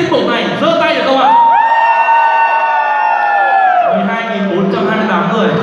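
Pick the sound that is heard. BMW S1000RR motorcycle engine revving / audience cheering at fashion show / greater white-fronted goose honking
audience cheering at fashion show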